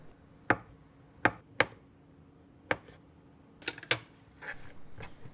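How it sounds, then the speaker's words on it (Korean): A knife cuts a block of canned ham into bite-size pieces on a cutting board, giving a series of sharp, close knocks spaced irregularly, then a quicker cluster of taps. "깡통햄을 먹기 좋은 크기로 잘라주세요."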